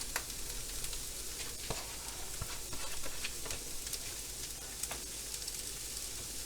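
Onions and mushrooms stir-frying in a pan, a constant low hiss with scattered pops and occasional utensil clicks, quiet and steady with no talking.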